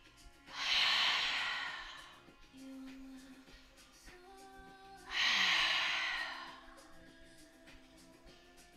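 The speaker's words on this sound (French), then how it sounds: "Et on inspire par le nez. Expire par la bouche." Two slow, breathy yoga exhalations through the mouth, each lasting over a second, separated by a quieter pause for inhaling through the nose, close and clear, with faint music tones underneath.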